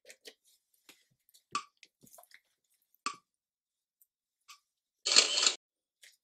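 A ClearReader OCR reading machine capturing a photo of a document after its big button is pressed: a few faint clicks, then a short loud camera-shutter burst lasting about half a second, in a quiet room.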